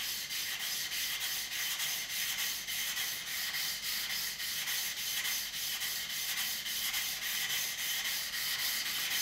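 A steel scraper blade is held vertically and drawn along a sharpening stone with light pressure, giving a soft, steady, rhythmic rasping rub repeated in even back-and-forth strokes, close and fairly quiet with no talk.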